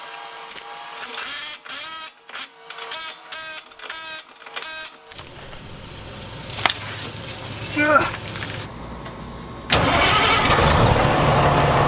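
A 1977 Peterbilt 359 truck engine cranking and catching, preceded by rhythmic mechanical clatter, then settling into a low idle with some louder surges, heard close and without talk.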